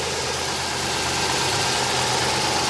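A 1989 Toyota pickup with 317,000 miles idles with its clutch fan turning, a loud, steady, close mechanical drone with a faint knocking vibration and no voices.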